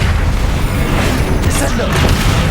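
Spell blasts explode in Hogwarts Legacy combat: loud, continuous booming with a dense low rumble and a few bursts on top, mixed with voices.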